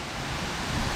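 Steady broadband rush of a Thai waterfall reached after climbing hundreds of steps, a dense continuous roar of falling water heard close and alone.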